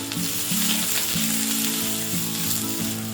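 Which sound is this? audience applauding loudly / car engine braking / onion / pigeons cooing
onion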